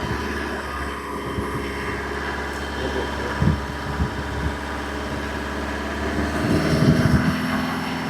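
At a used car dealer in Tiruchendur, a car engine runs with a steady low drone and swells briefly as it is revved near the end.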